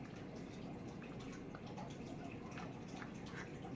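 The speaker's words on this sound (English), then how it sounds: "Pour it in the warm water" Warm water pours from a container into a mixing bowl for homemade galaxy slime, giving a faint, steady trickle and drip over about four seconds.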